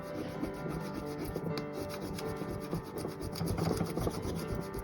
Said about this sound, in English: Let me just rub with my thumb.